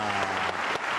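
An audience applauds at the 21st Superfinal of a billiards final between Jimenez and Tasdemir: a dense, steady burst of many hands clapping at close range, with no talking over it.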